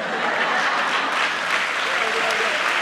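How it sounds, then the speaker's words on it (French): Continuous audience applause at a live comedy stage show, a dense even patter of clapping heard close and fairly loud for the whole moment. "Faites beaucoup d'applaudissements pour Manitou du Gabon, Abel Bouala de RDC, T"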